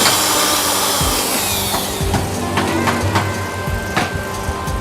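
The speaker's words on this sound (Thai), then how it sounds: "ทางเราจะเจาะนำร่องก่อนนะ" Power drill boring a pilot hole into the spark plug thread of a Honda lawn mower engine, a steady close whirring grind with scraping bursts as the bit bites, running continuously throughout.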